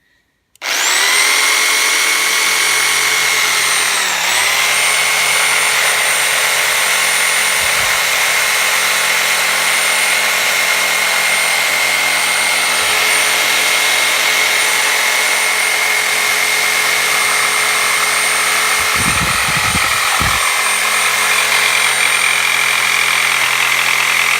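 A Titan TTB533RSP 750 W reciprocating saw runs loud and steady for over twenty seconds after a sudden start, a constant high motor whine with a small pitch dip early on and faint knocks near the end, no voices.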